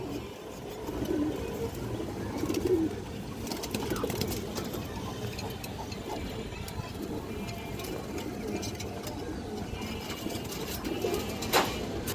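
A large silver hen pigeon with an all-black tail coos among other pigeons, soft low calls repeating close by over steady rustling and background bird noise, with a voice speaking intermittently.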